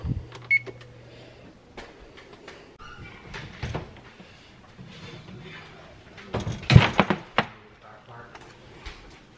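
A kitchen oven door opens and closes with a couple of clunks while a tray of brookies goes back in to bake, a voice talking softly around the sounds.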